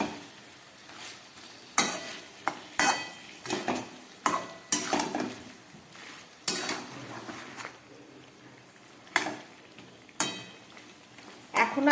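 Fried potatoes and broiler chicken cooking in a pan on low heat, with a soft continuous sizzle broken by repeated sharp scrapes and clinks of a spatula stirring against the pan, close and fairly quiet.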